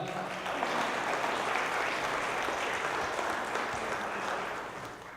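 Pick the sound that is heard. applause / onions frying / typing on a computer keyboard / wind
applause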